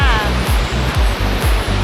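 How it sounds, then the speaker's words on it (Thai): Muak Lek waterfall in Saraburi, Thailand, pours with a loud, steady roar of rushing water, while low thumps pulse underneath in a rough, repeating rhythm. "เหมือนน้ำตกส่วนตัวเลยอะ่ะ"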